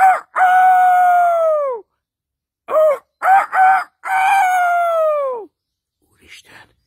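A voice imitates a rooster crowing, with a long falling crow, a pause, then short syllables leading into another full drawn-out crow, loud and close, ending in a faint trailing noise.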